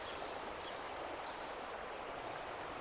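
Gala Water, a tributary of the River Tweed in the Scottish Borders, flows with a steady, broad rushing wash, close and continuous, with no talking.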